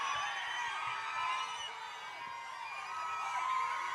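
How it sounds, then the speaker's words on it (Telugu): An audience welcomes Prithvi onto the stage at a Telugu film event with steady clapping and cheering. The crowd noise is sustained and moderately distant, with whoops mixed in. "ఒక్కసారి గట్టిగా చప్పట్లతో పృథ్వీ గారికి"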